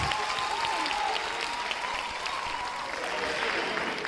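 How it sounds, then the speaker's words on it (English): A gala audience applauds at the official opening of Scifest Africa 2016, sustained clapping from a large crowd that stays steady and fairly full throughout. "Can I get a round of applause, please?"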